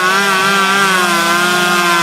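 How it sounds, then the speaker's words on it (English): A chainsaw roars loudly and steadily up close, cutting through storm-damaged trees in a neighborhood, holding a constant high-revving whine with no pauses. "The roar of chainsaws can be heard around neighborhoods recovering from Monday's storm."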